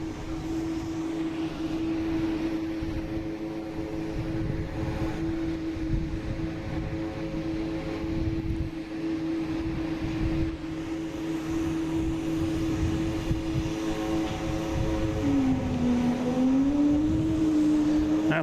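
Jet airliner engines at an airport, including a JetBlue A321 arriving, roar in a steady, loud, continuous drone with a sustained whine that bends in pitch near the end, with no talk.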